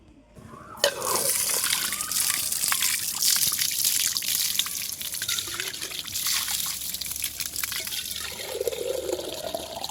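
Water drawn for worship, a steady splashing and trickling flow that starts abruptly after a moment of quiet and continues close and fairly loud to the end, with no talking.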